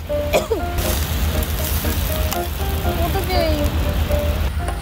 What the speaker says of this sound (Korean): 사진 찍다고 냄비 다 탔어